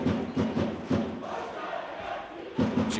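Breganze supporters cheer and shout in unison at an indoor roller hockey match against Correggio, loud rhythmic crowd chanting in repeated bursts that fade briefly before swelling again.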